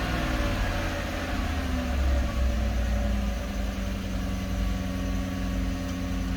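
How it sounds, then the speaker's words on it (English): A 2015 Chevy Silverado engine with a low-throttle-body fault (P0121) swells briefly when given gas, then settles into a steady, droning high idle, close and continuous with no talking. "I'm gonna give it some gas and see if it drops back down"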